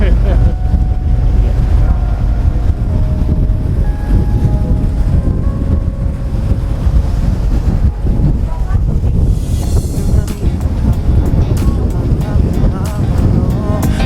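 Wind blowing across Haad Rin beach on Koh Phangan, a continuous rough roar buffeting the microphone with heavy low rumble. It stays loud and steady throughout.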